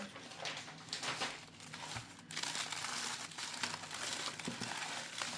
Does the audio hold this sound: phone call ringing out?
no